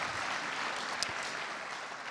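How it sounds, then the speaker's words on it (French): Audience applause during a Devoxx France conference keynote, a steady, fairly soft wash of clapping from a large hall, continuous throughout. "vous pouvez les applaudir"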